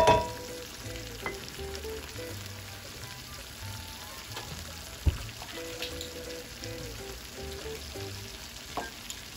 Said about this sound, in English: I'm going to add 3 tablespoons of white wine